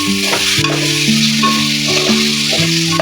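Ground masala sizzling in hot oil as it is stirred into a bitter gourd curry, a steady frying hiss with repeated scraping strokes of the spoon against the pan.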